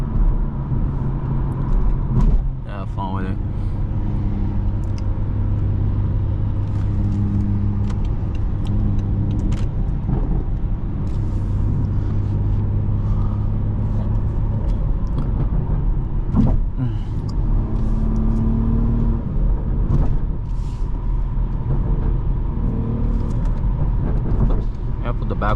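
BMW inline-six engine driving in sport mode, a steady low rumble and drone from inside the cabin with a brief rise in revs, while people talk over it throughout.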